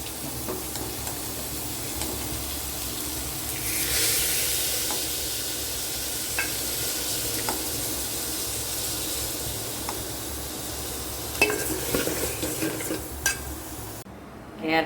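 Green beans with salt sizzle and hiss in a hot pan in a home kitchen while being stirred, a continuous close crackle with a brief surge of hiss and scattered utensil clinks.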